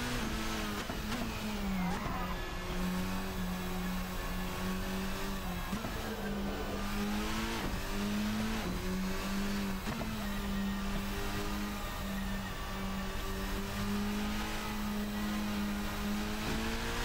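A race car engine in the Assetto Corsa racing game at the Nürburgring drones loudly and steadily. Its pitch climbs and drops repeatedly as the car shifts gears and brakes, with no speech over it.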